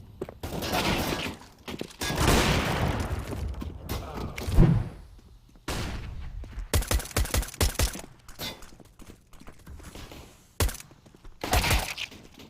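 Gunfire in the video game Counter-Strike comes as sharp, loud shots in bursts and rapid sequences, separated by quiet gaps, with occasional thuds and clatter between volleys.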